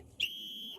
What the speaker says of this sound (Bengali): আমি বাঁশি বাজাবো